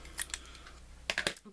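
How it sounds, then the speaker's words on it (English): Scissors snip a loose scrap off a paper panel with a few quick, crisp cuts, two early and a tighter pair later, faint and close on a quiet table. "Let me snip that off real quick."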